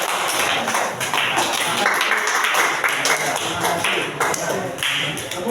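A classroom breaks into applause for students after their presentation, with steady dense clapping from many hands filling the room and a few voices audible beneath it.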